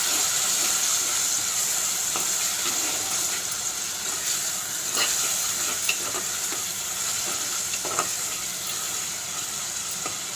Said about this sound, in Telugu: ఈ మసాలా అంతా కొంచెం బాగా వేగినాక ఒక 5 నిమిషాలు మగ్గనిద్దాం.